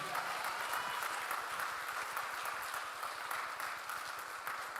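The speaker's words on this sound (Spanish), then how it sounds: "Dale un aplauso al Señor" Steady applause fills a church congregation, dense clapping held at an even level throughout with a broad wash of many hands, no pauses or talk standing out.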